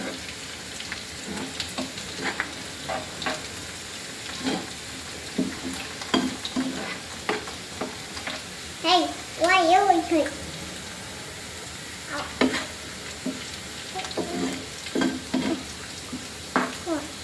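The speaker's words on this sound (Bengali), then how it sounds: "এই যে হয়ে গেছে ফোড়ন।" Spices tempering in hot oil for khichuri on a rainy day, giving a sizzle and stirring clatter with a few brief louder bursts under background household noise; a voice speaks intermittently.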